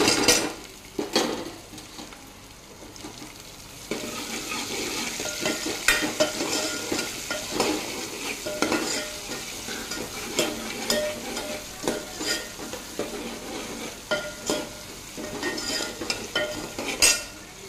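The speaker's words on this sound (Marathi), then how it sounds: "आता मिरची छान परतली आहे" Green chilies frying in a pan with onion, garlic, mustard seeds and cumin, a steady crackling sizzle broken by repeated scraping stirs and light metallic clinks of a spoon against the pot, close and continuous without talk.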